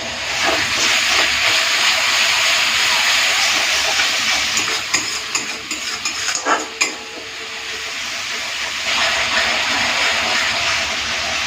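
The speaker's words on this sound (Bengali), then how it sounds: "অল্প একটুখানি জল দিয়ে মশলাটাকে কষিয়ে নেব" Spice paste with a little water being sautéed for a bhetki fish kalia, a loud continuous steamy hiss and sizzle close up, with a brief cluster of stirring scrapes in the middle.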